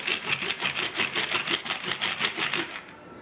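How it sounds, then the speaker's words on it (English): A large knife scrapes repeatedly across a cutting board, mashing minced garlic and salt into a paste, a quick steady rhythm of about a dozen gritty strokes, close and fairly quiet. "Using a large knife, scrape over mixture at a 45-degree angle, pressing down repeatedly until garlic is broken down into a paste form"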